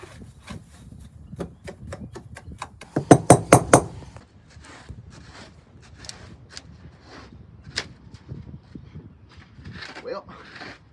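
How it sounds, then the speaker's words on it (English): A wrench breaks up salt and mineral in a ranch mineral feeder, giving sharp metallic clinks and knocks in irregular bursts, with a busy flurry of hits around the middle and scattered taps after. "I am going to break up the salt and mineral, just kind of mix it around a little bit."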